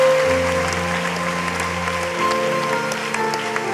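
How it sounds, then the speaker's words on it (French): A church congregation in Guadeloupe claps and cheers for about four seconds, with sustained applause under a steady organ or keyboard tone, fairly loud and even. "Est-ce qu'on peut les acclamer très fort alors qu'il avance?"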